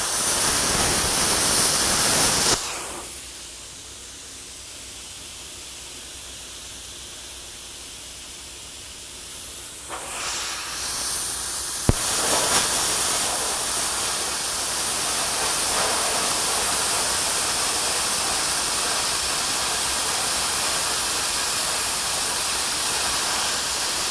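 A YesWelder CUT-55DS plasma cutter slicing metal, a loud steady roaring hiss of air and arc that cuts out briefly, then resumes with a sharp crack and carries on continuously.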